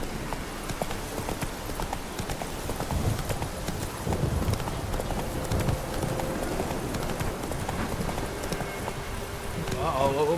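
Roach the horse gallops in The Witcher 3, a rapid, steady clip-clop of hooves on open ground running the whole time, with a voice talking over it and faint ambient game sounds behind.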